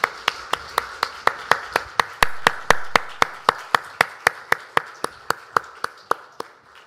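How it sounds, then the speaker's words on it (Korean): A church congregation at a Sunday worship service claps in unison, sharp regular beats about three per second, loud and close, with a faint reverberant wash behind them. "하나님께 영광의 박수를 올려드리겠습니다"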